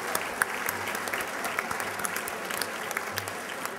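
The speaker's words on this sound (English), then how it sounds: "Let's give our head table a round of applause." Sustained applause from a dinner audience at a congressional banquet, honoring the head table; dense, even clapping throughout with occasional sharper claps.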